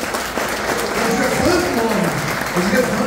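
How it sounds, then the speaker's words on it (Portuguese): A church congregation applauding during a service: a dense wash of clapping from many hands, steady throughout, with a voice speaking over it. "aí sim eu queria aplaudir Jesus com você"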